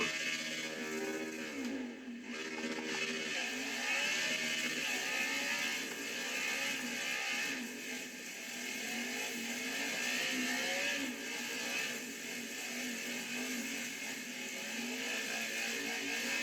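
Race car driving in a NASCAR video game, with a steady, loud engine drone and whirring mechanical tones holding throughout, the pitch wavering slightly as the car moves, with no talk over it.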